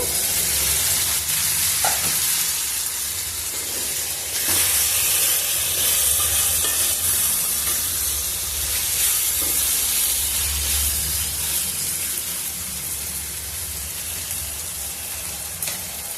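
Brinjal and chicken curry simmers in a pan, giving a steady, close sizzle and frying hiss with bubbling crackles that runs unbroken throughout, and no talk.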